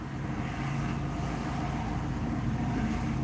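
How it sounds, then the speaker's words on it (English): A car passes along a city street, its engine and tire rumble holding steady at moderate distance with traffic hum behind. "Well, I hear this car."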